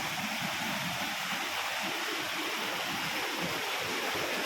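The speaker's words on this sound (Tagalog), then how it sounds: "Sapa." Steady broadband rush of a freshwater stream at Bambi Falls, continuous and fairly close, a full even wash of flowing water with no talk over it.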